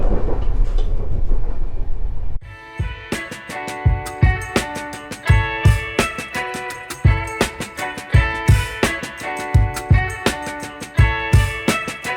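Intercity IC Śnieżka passenger train rolling along the rails, with a rumble at first and then a steady rhythmic clickety-clack of wheels over rail joints, loud and close from on board.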